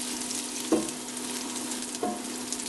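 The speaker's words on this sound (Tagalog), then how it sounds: "ngayon mainit na yung cooking oil, igigisa na natin yung dinikdik na bawang at yung luya." Crushed garlic and ginger sizzle steadily in hot cooking oil in a pan for a crab dish, a constant frying hiss broken by two sharp stirring scrapes.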